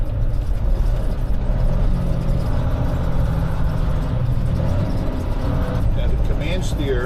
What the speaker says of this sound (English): If you leave off the throttle, here's your engine brake.